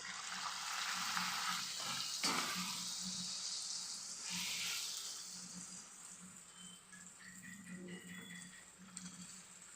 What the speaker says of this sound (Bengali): এবার আমরা লুচিগুলোকে একে একে ভেজে নেব